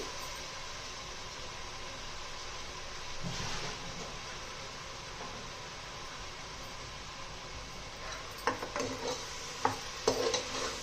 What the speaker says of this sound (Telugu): కొత్తిమీర, పుదీనా కూడా వేసేస్తున్నానండి. బాగా కలుపుకొని